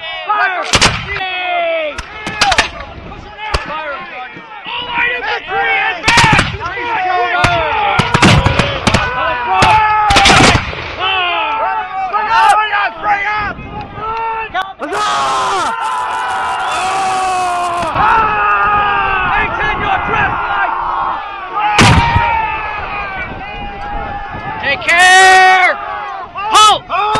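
Musket volleys and booming cannon fire ring out at a Revolutionary War redcoats-and-rebels battle reenactment, repeated heavy blasts close by amid shouted commands, crowd noise and yelling throughout.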